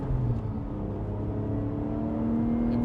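A 2010 Lotus Evora 2+2 with a 6-speed gearbox runs in sport mode, its exhaust giving a steady, moderately quiet engine drone that rises slightly in pitch toward the end, heard from inside the car.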